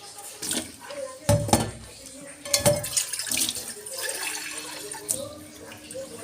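Water is poured into a pot in a kitchen, splashing and trickling in uneven bursts with clinks of metal cookware, up close and moderately loud.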